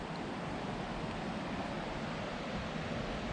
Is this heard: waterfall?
yes